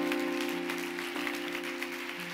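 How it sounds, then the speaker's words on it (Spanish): Church congregation applauding during a Spanish-language sermon, a steady dense wash of clapping throughout, with a sustained musical tone beneath. "Denle un aplauso a Dios si usted lo cree."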